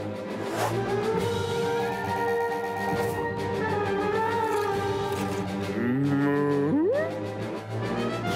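A cow moos in a long, drawn-out call that rises in pitch near the end, over busy background music.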